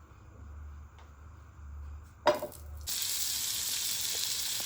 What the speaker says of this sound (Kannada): ಪ್ಯಾನ್ ತೊಗೊಂಡು ಈ ಪ್ಯಾನಿಗೆ ಬಟರ್ ಹಾಕ್ತಾ ಇದ್ದೀನಿ